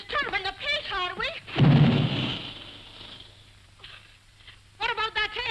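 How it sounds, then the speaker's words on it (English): A single deep boom from an air gun, loud and rumbling with a long decaying tail, set between stretches of spoken dialogue. "What about that air gun of yours booming all day and night?"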